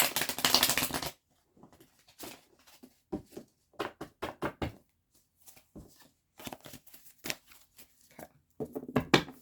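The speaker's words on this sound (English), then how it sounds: "Let me give this deck a quick shuffle." A deck of tarot cards being shuffled by hand, giving a run of quick, close papery riffles and taps with short pauses between bursts.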